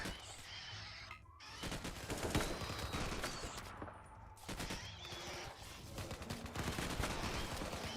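Dense bursts of gunfire in RimWorld, the colony-defense game, rattle almost continuously, with rapid overlapping shots and short lulls near two and four seconds, loud and close throughout.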